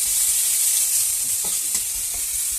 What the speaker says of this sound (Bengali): টমেটো টেস্ট করেছে আদা রসুন পেঁয়াজ এগুলো করে তেলটার মধ্যে ফ্রাই করে নিচ্ছে